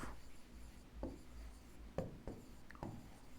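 Writing during a math lesson, quiet scratching and sharp tapping strokes of a pen or marker, a few distinct marks spaced under a second apart in a still room.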